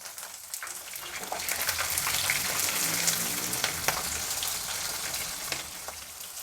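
A tempering of chana dal, urad dal, green chillies and curry leaves fries in hot oil with a steady, crackling sizzle that swells and continues evenly, with no voices.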